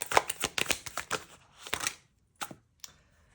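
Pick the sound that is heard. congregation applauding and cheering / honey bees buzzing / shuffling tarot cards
shuffling tarot cards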